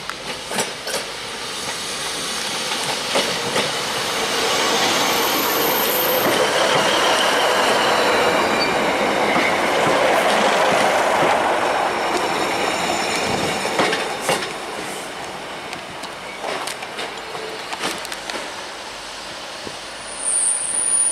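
A Class 156 diesel multiple unit rolls through Carlisle station, a sustained rumble with clickety-clack from the wheels and squealing that builds and fades across the pass, with no talk over it.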